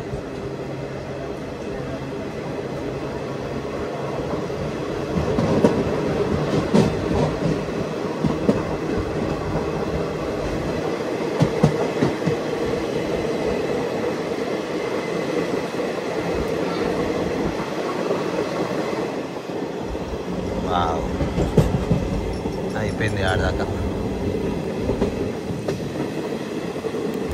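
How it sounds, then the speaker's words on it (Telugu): A Tirupati–Vasco da Gama passenger train rolls along the rails with a steady rumble and clickety-clack of wheels, continuous throughout, with brief talk in the background. "తిరుపతి, వాస్కోడగామ ట్రైన్ ఇది."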